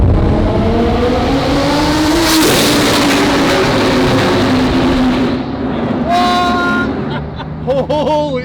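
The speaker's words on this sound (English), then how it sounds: "turbo flyby in a tunnel" A twin-turbo Lamborghini roars past in a tunnel, a loud, reverberant engine wail rising and peaking around the midpoint, then fading, with sharp whistles and turbo chirps toward the end.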